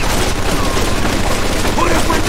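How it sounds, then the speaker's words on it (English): Sustained machine gun fire in the video game Mafia 2, a dense, continuous rattling barrage that stays loud and close throughout the short stretch. "We found the machine gun!"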